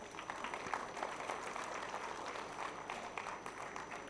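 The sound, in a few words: audience applause for the dance performance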